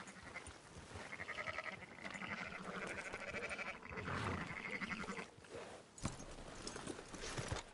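Sheep in the Red Dead Redemption 2 video game bleat repeatedly over a steady busy bed of hoof clops and farm ambience, continuous and fairly close.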